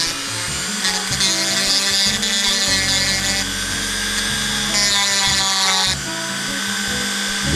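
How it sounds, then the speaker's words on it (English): A Dremel fitted with a tapered grinding stone whines at high speed on a Heritage Rough Rider revolver part, pitch dipping and recovering as it bites in, continuous and close for several seconds without talk. "Now I just use a stone on my Dremel that's tapered."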